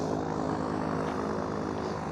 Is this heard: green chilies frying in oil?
no